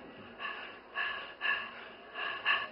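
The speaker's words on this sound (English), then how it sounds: "Why are the kids panting?" Children who have just finished dancing pant heavily, five or six rhythmic breaths in quick succession, close and fairly faint, with no talking.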